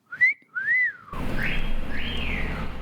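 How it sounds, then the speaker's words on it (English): Two loud rising-and-falling whistles from a motion-sensor owl decoration mounted on a wall, close and clean, followed by softer swooping whistles over a steady background rumble. "you can also sometimes hear his motion-censored owl on the wall, which whistles"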